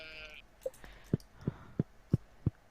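A Stardew Valley sheep gives a short bleat near the start, followed by five evenly spaced soft thumps, game footsteps or taps, over a quiet background.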